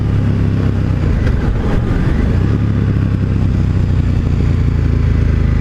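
A 2018 KTM 1290 Super Duke ridden on the road, its engine and exhaust droning loud and steady with a slight rise, mixed with wind noise and no speech.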